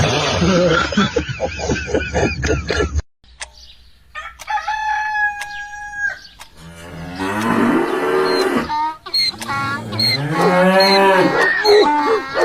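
A cow moos loudly several times, interleaved with a rooster crowing and other farmyard calls, all close by with no talking.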